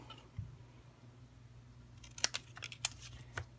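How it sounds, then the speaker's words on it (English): Scissors snip a scrap of cardstock while a leaf greeting card is being made, a few quick crisp cuts arriving close together near the end after a quiet stretch of faint room hum. "I'm just going to snip this so it's a little shorter"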